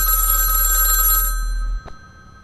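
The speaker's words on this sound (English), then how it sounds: "Broken phone's ringing, bro." A broken telephone rings with a loud, sustained electronic bell tone that cuts off abruptly partway through, leaving a faint click and near silence.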